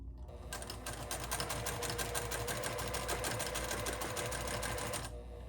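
A sewing machine runs free-motion quilting stitches through fabric, giving a fast, steady mechanical chatter up close that holds for several seconds between softer moments at start and end.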